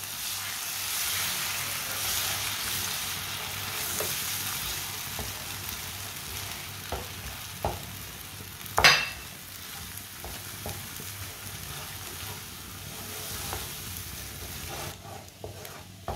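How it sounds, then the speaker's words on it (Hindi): Three eggs fry with spinach in a hot pan, giving a steady close sizzle with occasional stirring scrapes and one sharp clatter midway. "3 अंडे डालेंगे, अच्छी तरह मिक्स कर लेंगे।"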